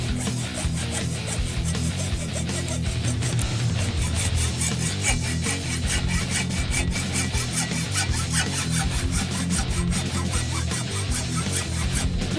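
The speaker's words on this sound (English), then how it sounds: "I used a hacksaw to cut the metal flange off the bottom of the transformer" Steady rasping back-and-forth hacksaw strokes cutting through the metal flange of a microwave transformer, continuous and close, with a dense scraping texture throughout.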